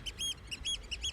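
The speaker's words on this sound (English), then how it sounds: "Birds all around me." Small birds chirping on a beach on the Isle of Arran, a run of short high tweets repeating in quick bursts, fairly faint and with no talk over them.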